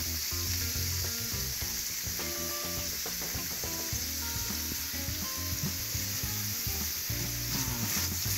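Hamburger meat fries in a pan for venison chili, a loud continuous sizzle with stirring clatter, heard close and alone without any talking.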